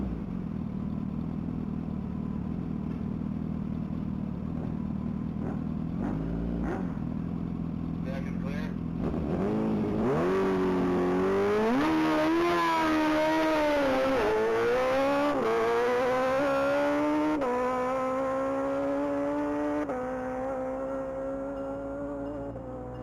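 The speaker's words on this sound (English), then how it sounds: "That's a 2012 Suzuki Hayabusa." A 2012 Suzuki Hayabusa motorcycle screams through a top speed run at a mile-long racing event, its engine climbing through rising gear pulls with brief dips at each shift, loud and sustained under a commentator's voice.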